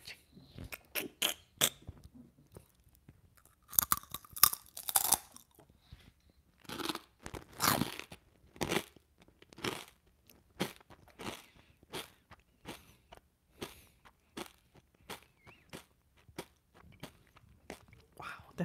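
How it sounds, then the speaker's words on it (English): Kettle corn crunched between the teeth close to the microphone, a string of sharp, irregular crunches and chewing bursts, some loud, with a few quieter gaps and slight rustling between bites. "Let's do a little bit more crunching."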